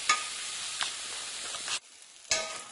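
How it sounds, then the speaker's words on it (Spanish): Potatoes frying in a pan while a rubber spatula stirs them, a dense close sizzle that drops out briefly before returning strongly. "Siempre removiendo con una espátula de goma"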